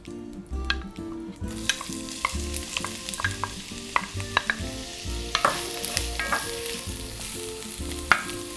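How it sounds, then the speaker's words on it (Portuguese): Half a small chopped onion sautéing in hot butter for a caprese risotto, a close, steady sizzle with repeated spoon scrapes and light taps against the pan, over faint background music and without speech. "Com a manteiga quente eu vou acrescentar a cebola."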